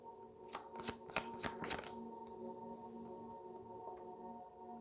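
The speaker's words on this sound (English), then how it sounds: "as I was shuffling before the Ten of Pentacles came out" Quick riffle-shuffling of tarot cards, a burst of several crisp flutters in the first two seconds over a steady low hum, then only the hum remains.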